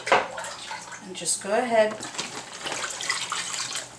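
Water pours into a container to cover a brining turkey for Thanksgiving, a steady running splash under a woman's speech.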